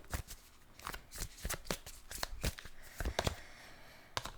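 A Moonology oracle card deck is shuffled close up, a string of soft riffling snaps and slaps in an uneven rhythm with no talking.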